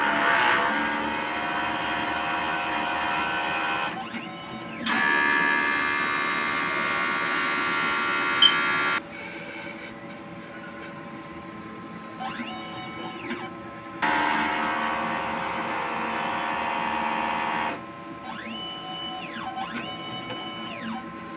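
A DTF printer works through a print head cleaning cycle, with alternating stretches of steady electric motor whine and quieter pauses, while pump and carriage tones rise and fall nearby and no one speaks.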